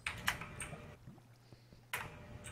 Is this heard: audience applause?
no